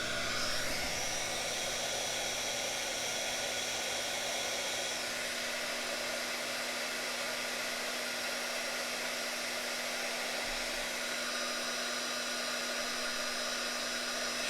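An aging heater blows steadily while warming a rock for melting crayons, a continuous even whirring hiss with a faint constant hum, alone and unchanging.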